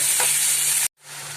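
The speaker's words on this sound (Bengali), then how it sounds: "এবার একটু ভালো করে একটু ভাজা ভাজা হয়ে গেলে আমি একে একে গুঁড়ো মশলাগুলো এর মধ্যে দিয়ে দেবো" Ground spices sizzle steadily in hot oil in a pan for a spicy tangra fish curry. The frying is close and loud, cuts out briefly, then resumes.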